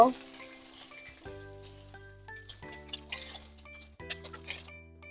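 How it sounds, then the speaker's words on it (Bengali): Pieces of rohu fish fry in hot oil, a soft, steady sizzle with occasional clinks running beneath louder background music. "দুই পাশে আমার মাছগুলো ভেজে নেওয়া হয়ে গিয়েছে এবারে তুলে নিব"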